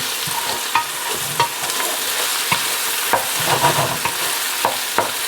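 Pork and beans sizzling in lard for traditional baked beans, a dense, loud crackling fry up close, broken by sharp stirring knocks and scrapes at irregular intervals.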